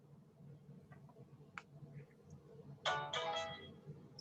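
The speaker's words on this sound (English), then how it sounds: "that's my phone" Phone ringtone: a short, bright electronic melody bursts out near the end after a few faint ticks and clicks, fairly close and clear over a quiet room.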